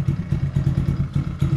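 A Kayo 70 dirt bike with an automatic transmission idles roughly on choke and stale mixed gas, its engine chugging and thumping in uneven, lumpy pulses close by.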